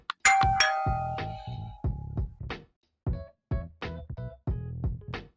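A Tapo D235 smart doorbell's bright electronic chime rings out, followed by a series of short clanging ding tones that start and stop in bursts, clear and fairly loud.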